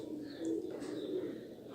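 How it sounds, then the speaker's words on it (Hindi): Low pigeon cooing from a favourite Teddy pigeon, a soft steady murmur lasting under two seconds with a slight swell in the middle, fairly close and with no talk over it. "ये मोस्ट फेवरेट कबूतर है"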